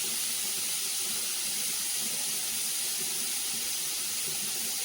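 Water pours into a kitchen mixer-grinder jar while preparing shahi paneer, a steady hissing, splashing stream heard close by with no talk.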